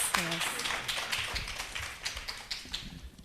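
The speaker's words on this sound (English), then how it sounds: "Let's give them a warm round of applause." Applause from a conference audience for a panel, a steady patter of many hands clapping through the clip, with some voices and noise mixed in.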